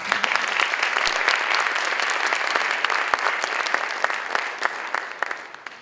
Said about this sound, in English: Ladies and gentlemen, please welcome by round of applause Stephen Sims, who will do our video presentation.